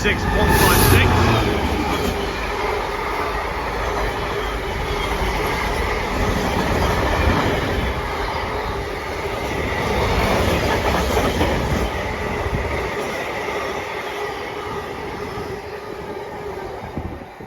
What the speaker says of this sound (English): coming through now is our second freight train of the day, and it is another 66